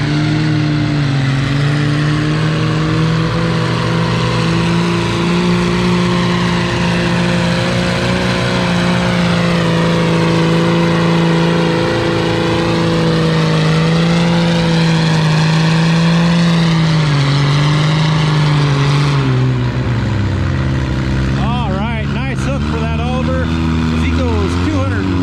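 An Oliver 770 vintage tractor roars steadily at a vintage farming days tractor pull, a loud sustained engine drone with shifting pitch that drops off near the end, while a voice talks over it.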